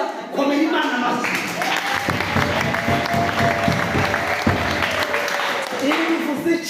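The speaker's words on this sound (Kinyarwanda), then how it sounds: "komera Imana amashyi." A church congregation claps together in a steady, sustained burst of applause lasting several seconds, with a voice and a held tone running over it.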